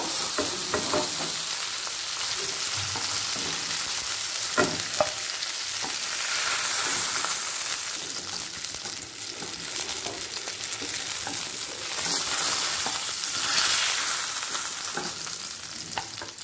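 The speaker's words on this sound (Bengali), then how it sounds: "অপরদিকে কড়াতে সর্ষের তেল দিয়ে মাছগুলোকে ভাজতে দিয়েছি।" Steady, loud sizzling of fish frying in hot mustard oil in a kadai, a continuous crackling hiss with occasional spatters and stirring, close up with no talking.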